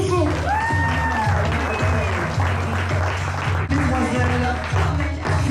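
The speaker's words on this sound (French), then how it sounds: "on les raccompagne sous les applaudissements" An indoor crowd applauds athletes at a national weightlifting-style competition, a dense steady clapping with scattered cheers, heard under loud rhythmic music.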